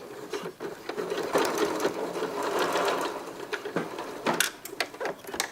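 A sewing machine runs in steady bursts while stitching a fabric scrunchie, with rapid mechanical whirring that briefly pauses and restarts, close and moderately loud.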